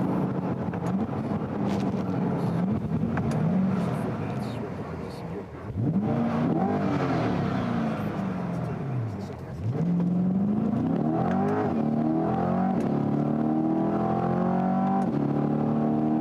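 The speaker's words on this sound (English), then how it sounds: "I kind of want to do a sneaky little launch in this thing." A 2022 Chevrolet Corvette engine revs hard during a launch and accelerates through several rising gear changes, loud and close, with wind noise and a voice speaking over it.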